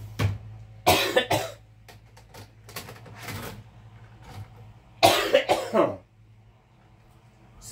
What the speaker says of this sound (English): Sorry about me coughing